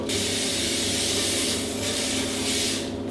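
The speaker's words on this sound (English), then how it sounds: "So we're gonna start by oiling our baking tray." Oil sprays steadily and loudly onto a baking tray in one continuous hiss, close up, cutting off abruptly at the end while a low kitchen hum runs underneath.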